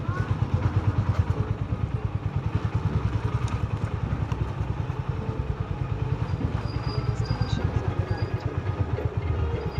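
A motorcycle ridden on the road near the Samadhi Mandir in Akkalkot, its engine thumping in a loud, steady rapid pulse close by for the whole stretch, with faint clatter and road noise mixed in.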